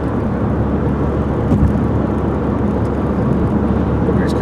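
A Volkswagen car passes on a sunny commute, its engine and tyre roar blending into the steady low drone of the driver's own car cruising in sixth gear in bunched-up traffic.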